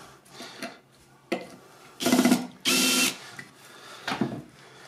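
An electric screwdriver fitted with a Phillips bit drives screws while assembling an Easy Jardin 500 worm composter, giving two short close whirring bursts among lighter clicks and handling taps, with no speech.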